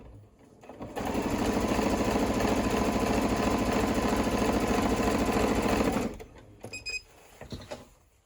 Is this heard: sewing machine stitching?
yes